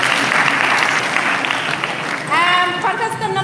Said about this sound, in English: please give a round of applause to Aminata, Mariam.